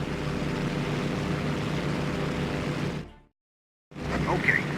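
A propeller plane engine in the WWII flight game Damage Inc. Pacific Squadron drones loudly and steadily, cuts out abruptly to silence for under a second, then roars back in.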